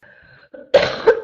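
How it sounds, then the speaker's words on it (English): A single throat clearing, close and fairly loud, a short rough burst with a second smaller push at the end, following a quiet stretch of faint room sound. "Clear my throat"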